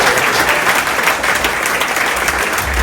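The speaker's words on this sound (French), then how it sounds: "Vous avez donné une bonne main d'applaudissements" An audience at a lecture claps together in loud, dense, sustained applause that fills the whole stretch without a break.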